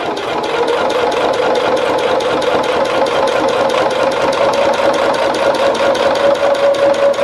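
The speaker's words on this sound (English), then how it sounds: "Under your pressure foot, get them in there, and then just sew your seam." A sewing machine runs a quilt seam with a loud, continuous, even motor hum and rapid needle chatter, close and steady throughout with no pauses or voices.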